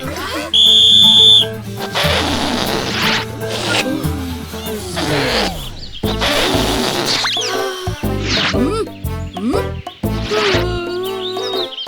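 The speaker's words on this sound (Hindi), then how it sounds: "और ये बजी सीटी" A cartoon whistle blows once, a bright sustained tone of about a second, starting a balloon-blowing contest, then gives way to busy cartoon sound effects and voices.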